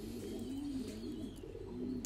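Pigeons raised for meat on a pigeon farm give soft, low, rolling coos, faint and continuous against a quiet background.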